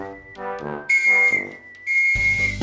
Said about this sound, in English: Their whistle goes, the second whistle.